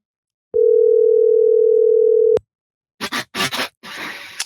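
A steady telephone dial tone sounds loud and clear for about two seconds before cutting off, followed by a few short clicking noises of a call connecting.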